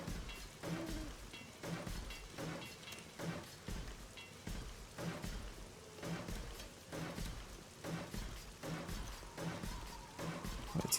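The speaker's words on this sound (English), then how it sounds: "It's either snowing or it's raining." Rain falls in the video game 7 Days to Die as a faint, steady patter under soft ambient game music with a repeating pulse.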